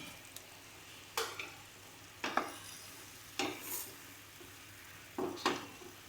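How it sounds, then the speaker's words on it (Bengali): Chopped tomato goes into a pan of pre-boiled chana dal with kochur loti, giving quiet sizzling under a few sharp scraping stirs of a spatula, spaced about a second apart. "এবার কেটে রাখা টমেটোটা দিয়ে দিচ্ছি।"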